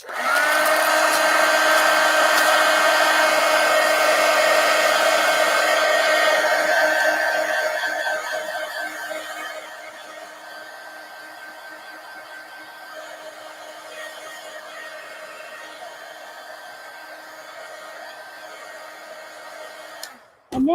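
A hair dryer blows steadily on a wet mixed-media collage journal page, loud and constant at first, then dropping to a lower, softer setting for the rest before it clicks off at the end.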